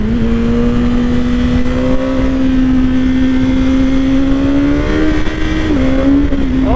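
A 2021 BMW S1000R motorcycle accelerates hard, its engine a loud, close, rising whine that climbs steadily through the gears with a brief dip near the end.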